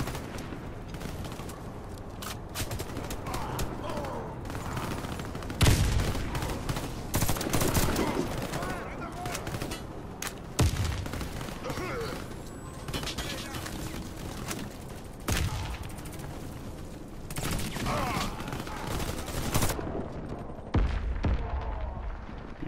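Dense gunfire from weapons in the PS4 video game Warface, rapid repeated bursts and heavy booms running throughout, with a voice talking over parts of it.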